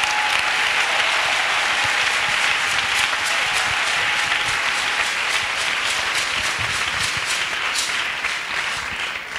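A church congregation claps for Jesus in sustained, dense applause, with many hands beating together loudly and continuously.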